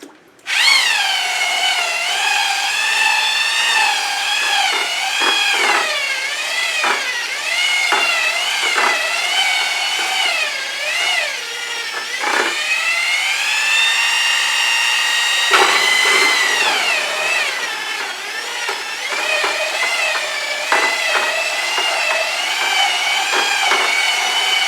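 A power drill mixes a coating for dipping, its motor whining loudly and continuously with pitch rising and falling as the speed changes, alone and close for the whole stretch.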